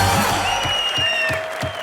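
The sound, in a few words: studio audience applauding for Shah Rukh Khan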